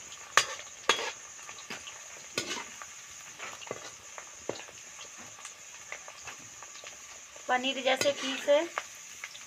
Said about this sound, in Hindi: तो इसमें तलाती हूँ मैं, थोड़ा थोड़ा तलाऊंगी, एकदम ज़्यादा नहीं।